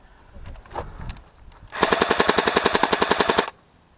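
A rapid, steady burst of automatic fire from an airsoft gun runs for under two seconds, preceded by faint clicks and shuffling nearby.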